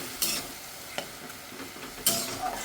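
Ghugni masala with a little ground coriander frying in a pan, a soft continuous sizzle broken by a few sharp scrapes of stirring, close and fairly quiet with no talk.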